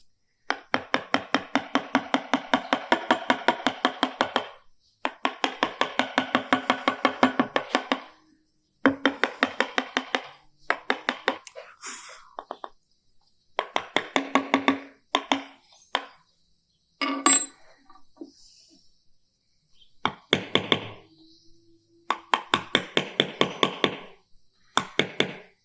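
A hammer strikes a chisel carving letters into granite, rapid, even bursts of sharp metallic taps in long rhythmic runs separated by short pauses, close and clear without any talking.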